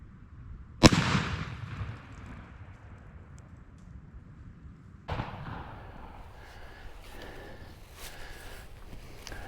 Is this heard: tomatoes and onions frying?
no